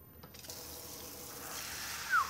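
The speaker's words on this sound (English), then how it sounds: "All you're gonna have to do, fill it up with some water." Tap water runs steadily into a mold at a sink, a close hissing rush that builds slightly over a couple of seconds after a brief start.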